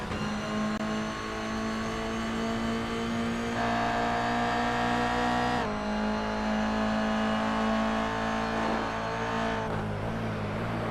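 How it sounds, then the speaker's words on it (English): Toyota GR86 Cup race cars drive laps at Mosport in the iRacing sim, a loud, continuous engine drone with rising and falling revs and gear changes, close by and without talk. "These Toyota GR86 Cup cars."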